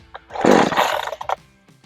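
A Pinkway 63cc gas chainsaw with a 20-inch bar, choke pulled out, fires on a pull and sputters into a short, loud, rough roar for about a second before dropping away.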